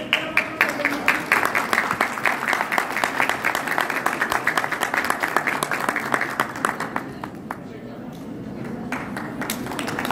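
Audience applauding at an award ceremony in a hotel ballroom in Istanbul, sustained dense clapping from many hands that gradually thins and fades toward the end, with a presenter speaking over it.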